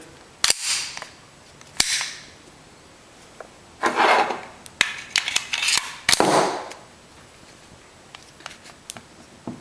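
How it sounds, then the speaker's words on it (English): Springfield Armory Loaded 1911 pistol being function checked: a series of sharp metallic clicks and snaps from the slide, safety and hammer, spaced irregularly with short rasping slide movements between them, close and fairly loud. "Safety down, give it a function check."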